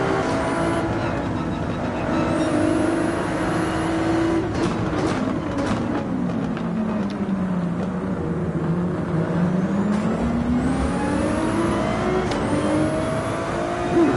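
Race cars in Gran Turismo 7 roar continuously through a steady engine drone as a pack battles on a narrow track, with engine pitch sweeping down and back up through shifts and passes, loud and sustained with no talking.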